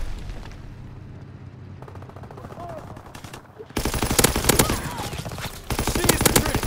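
Rapid machine-gun bursts and rifle fire crackle through a Call of Duty: WWII battle, quieter at first and then loud and dense, with rattling volleys overlapping in a continuous fusillade.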